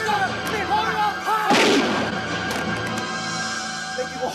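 A single sharp gunshot bursts out in the middle of a tense scene in a 1989 Hong Kong TV drama, loud and close, followed by a fading echo with voices in the background.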